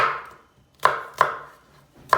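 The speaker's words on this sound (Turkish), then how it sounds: "patlıcanı fazla doğradım" A knife chops through a medium eggplant on a board, three or four crisp, close strokes with short pauses between them.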